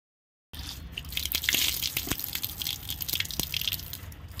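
Water splashing and dripping as the face is washed during wudu, the Islamic ablution: a steady close wash of running and falling water with a few distinct drips, starting after a short silence, with no voices.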